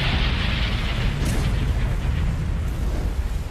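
Volcanic eruption explosion in Siberia, a loud, continuous deep roaring rumble with a dense low boom that fills the whole stretch without a break.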